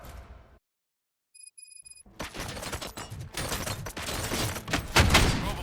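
Gunfire in the RoboCop: Rogue City video game opens after a near-silent gap and a few high electronic chimes, then builds into dense, loud volleys of rapid shots that grow heavier toward the end.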